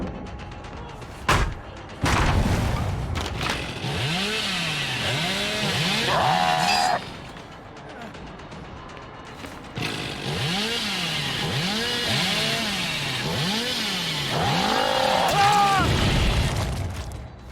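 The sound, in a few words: Hillbilly's chainsaw running in a video game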